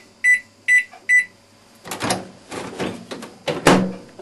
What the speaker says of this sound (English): Okay, in the microwave. Set it for 5 minutes.